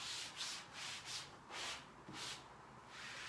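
A sponge wipes excess paste off freshly hung wallpaper beside a window reveal, making repeated soft rubbing strokes, about six close swishes in a steady rhythm with no talk.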